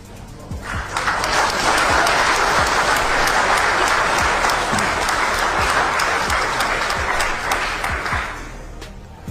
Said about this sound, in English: Why are you applauding that?